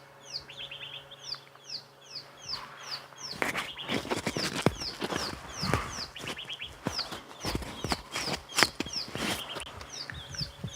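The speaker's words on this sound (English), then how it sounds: "I don't think anyone can ignore these amazing bird sounds that are going on here" Brown-headed parrots call repeatedly at sunset on safari, a run of sharp, evenly spaced chirps close by, over clip-clopping hoof-like knocks and a low steady hum.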